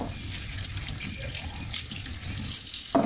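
Tap water runs steadily into a sink while wine glasses are washed, giving a close, continuous splashing hiss with a brief louder clink or splash at the end.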